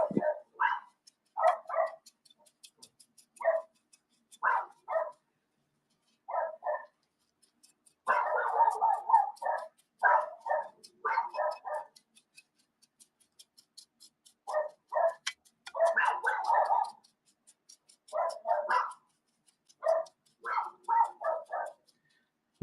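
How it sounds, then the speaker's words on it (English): Several dogs next door bark in short repeated bursts across a backyard, with brief quiet gaps between volleys and some denser clusters, moderately distant and alone with no talk. "No, those are the next door dogs."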